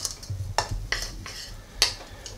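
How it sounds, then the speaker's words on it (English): Monk fruit erythritol sweetener and cinnamon are stirred in a bowl, giving a few quiet, irregular scrapes and clinks of a utensil against the dish. "I have 1 sprinkle of cinnamon. Going to stir that around."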